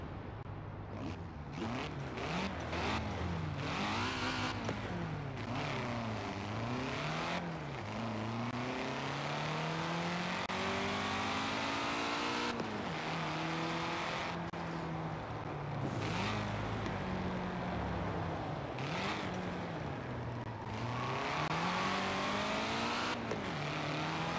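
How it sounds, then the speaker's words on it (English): Engine of a Toyota Celica ST-185 in the racing game Forza Horizon 4, revving repeatedly with sweeping rises and drops through gear changes and sharp cuts between runs, continuous and close throughout. "And let's just hear the sound."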